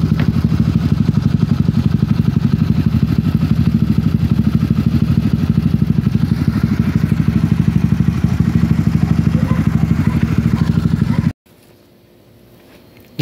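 A motorcycle exhaust with a newly fitted aftermarket canister burbles loudly and steadily at idle with a rough, throaty pulse, close by, then cuts off abruptly near the end.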